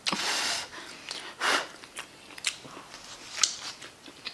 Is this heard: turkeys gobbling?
no